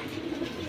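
A silver pigeon gives a soft, low, brief coo, close by and fairly quiet, with no voices over it.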